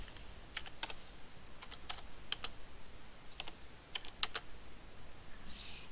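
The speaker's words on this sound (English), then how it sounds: "I'm just gonna just type this again" Someone types on a computer keyboard, with scattered sharp key clicks in short bursts and irregular rhythm over a faint room background, close and fairly quiet.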